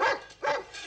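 A dog in a Polish wartime TV series lets out two or three sharp, close barks in quick succession, with a rough, growly edge between bursts and no talk over them.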